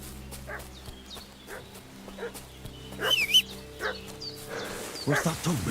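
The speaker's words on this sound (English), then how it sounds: "What's that dog making such a fuss about?" A dog in a video game barks and fusses in short repeated bursts, fairly close, over a steady ambient game soundscape.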